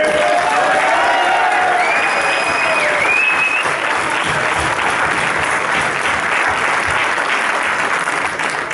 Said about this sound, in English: Big round of applause for Sean Dodd.